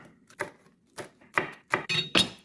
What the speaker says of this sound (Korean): 고추는 이렇게 좀 작은 크기로 이렇게 쏭쏭 썰어 줍니다.